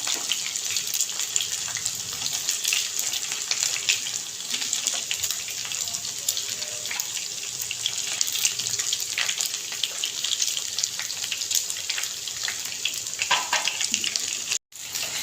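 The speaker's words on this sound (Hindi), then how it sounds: "तो जो बाकी का चिकन है वो भी हम ऐसे ही फ्राई करेंगे" Chicken pieces fry in hot oil for a fried chicken pulao, giving a steady, dense, loud hiss that runs unbroken for the whole stretch with no one talking.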